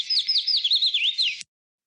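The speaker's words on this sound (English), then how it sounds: "this one definitely has that pattern that's characterized as please, please, please, pleased to meet you" Yellow-rumped warbler song in a high-elevation forest, a fast, sweet series of repeated slurred chirps running about one and a half seconds, near and clear, then stopping abruptly into silence.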